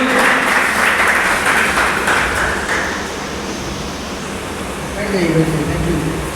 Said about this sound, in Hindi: एक बार तालियां थोड़ी जोरदार हो जाए एनर्जी के साथ में